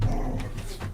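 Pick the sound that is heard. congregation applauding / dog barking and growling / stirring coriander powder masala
dog barking and growling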